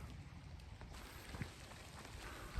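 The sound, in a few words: rain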